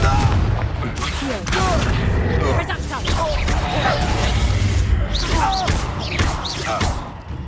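Confringo, an explosive fire spell cast in Hogwarts Legacy, lands as repeated booming blasts and crackling bursts within a dense game battle, with shouting voices and a steady rumble running throughout.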